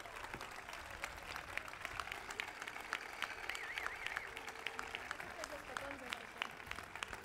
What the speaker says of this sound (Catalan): Un aplaudiment, home!